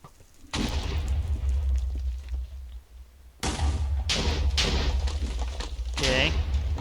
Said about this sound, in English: he just sprayed him with fireballs